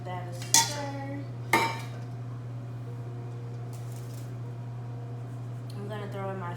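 Sugar is stirred into a cinnamon roll dough mixture in a bowl. Two sharp spoon clinks against the bowl ring out, followed by a quiet stretch over a steady hum, and a brief voice appears near the end.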